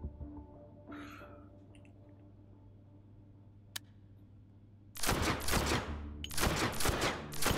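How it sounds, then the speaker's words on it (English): Suppressed automatic gunfire in the VR shooter Hot Dogs, Horseshoes & Hand Grenades, several short, sharp bursts after a quiet lead-in with faint handling clicks. "let's try it with a suppressor on"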